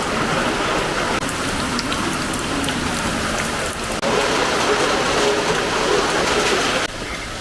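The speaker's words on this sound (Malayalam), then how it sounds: "അത്യാവശ്യം ഒന്ന് തണുപ്പിക്കാനുള്ളൊരു മഴ." Steady rain falls outdoors on a cloudy night, a dense, even patter on surfaces that continues throughout with small shifts in intensity.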